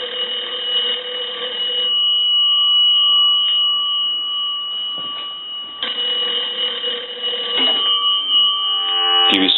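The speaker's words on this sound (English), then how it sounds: "So now what we can do is we'll go ahead and ring the telephone." An old Kellogg wooden wall-mounted crank telephone rings loudly during repair, its bell clanging in bursts with brief gaps between rings, close and dominant, ending with a click.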